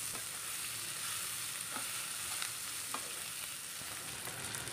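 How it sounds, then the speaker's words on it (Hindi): Ivy gourd (tendli) frying in a pan with onion, garlic and tomato, giving a steady close sizzle with occasional soft stirring scrapes and no voices. "प्याज लहसुन और टमाटर के साथ इसको फिर से एक बार भून लेंगे"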